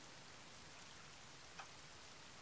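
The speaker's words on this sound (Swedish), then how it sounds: "Nu börjar det regna!" Steady rain falling in the survival video game The Forest, a dense even hiss of drops throughout with one faint brief knock partway through.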